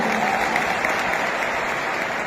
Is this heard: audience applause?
yes